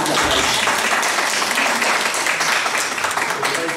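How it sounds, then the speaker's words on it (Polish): Audience applause at a concert of song interpretations, the first held during the pandemic: dense, steady clapping from a crowd that fills the whole stretch at a constant, loud level. "Ale ja myślę, że należą mu się oklaski, że wytrzymał tyle lat ze mną."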